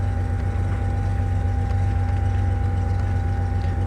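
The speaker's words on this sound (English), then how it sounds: "Took a little of the straight pipe sound out of it before, so it's a little quieter." A 1966 Chevrolet Corvair with a 140 engine runs at a steady idle, a constant low hum and drone with a toned-down exhaust, close and continuous, without talking.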